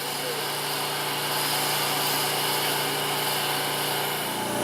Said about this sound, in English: we're just going to use the bowl gouge